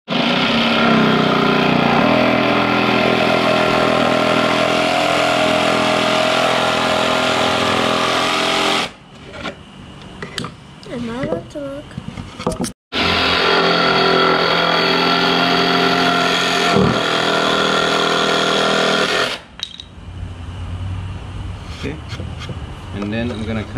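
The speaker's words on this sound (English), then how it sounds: "I'm going to be using a jigsaw to go to cut that cut out and this one." A jigsaw cuts through a board for a laundry room shelf, buzzing loudly and steadily in two long passes separated by short pauses filled with quieter handling noise.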